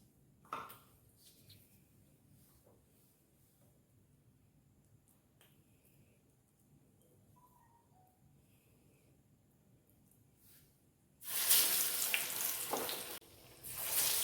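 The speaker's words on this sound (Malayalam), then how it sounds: "നമുക്കിനി ഒന്ന് തിളച്ച എണ്ണയിലിട്ട് ഈ വടയൊന്ന് ഉണ്ടാക്കിയെടുക്കാം." Lentil vadas (parippu vada) hit hot oil in a small pan with a loud burst of sizzling and crackling near the end, following a long, quiet stretch with faint kitchen clinks.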